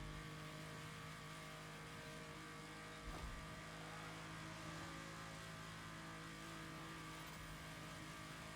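In the racing game Motorfest, a Porsche engine hums at a steady, sustained pitch with a brief surge about three seconds in, heard alone and moderately quiet over a constant drone.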